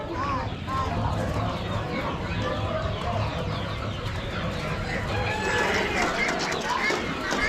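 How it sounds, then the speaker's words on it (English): Roosters and chickens cluck and crow at a busy Amish animal auction, the birds close and steady beneath a constant wash of crowd chatter and voices. "Big boy roosters."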